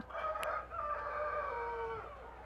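A rooster crows once at a poultry farm, a drawn-out, clear call of moderate loudness over a faint background hum, with no one speaking.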